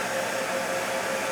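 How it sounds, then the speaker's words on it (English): A hair dryer runs on its low setting while powered from a portable power station, a steady broadband whoosh with a faint motor whine, constant and close. "what happens if I fire up the hair dryer?"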